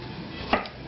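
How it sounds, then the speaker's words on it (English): A knife makes a single crisp cut through a green tomato, slicing it thick, over a quiet background. "I'm just going to slice them into thick slices."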